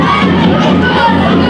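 A big school crowd at a Gaelic games match between Bantry and Ballincollig cheers and shouts, children's voices prominent in a dense, loud roar that carries on unbroken.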